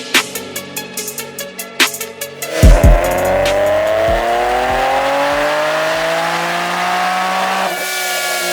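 A supercharged Nissan 370Z engine, tuned to 650 wheel horsepower, fires up after some clicking and cranking, then settles into a steady, loud idle with a rising supercharger whine, close up.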